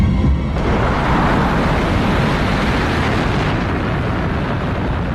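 A rocket booster ignites and launches in the film Interstellar, a loud, continuous broadband roar that fills the scene steadily for several seconds.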